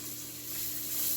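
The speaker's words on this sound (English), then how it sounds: "we're going to add the onion in here" Onion sautéing in a pot over seared venison for a stew gives a steady, soft sizzle and hiss throughout, close and fairly quiet, with no talk.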